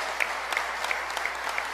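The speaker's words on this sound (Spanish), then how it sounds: "Un aplauso" Applause from an audience at a ceremony declaring El Chopo, Mexico City, a cultural heritage site: steady, fairly faint clapping from a crowd throughout, with no voices over it.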